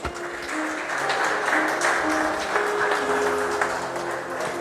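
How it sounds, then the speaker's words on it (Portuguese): A church congregation applauds during a sermon, a steady wash of clapping from a crowd lasting several seconds at moderate volume. "Você pode aplaudir o Senhor por isso?"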